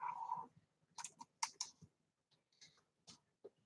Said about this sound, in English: I'm typing it right in right now.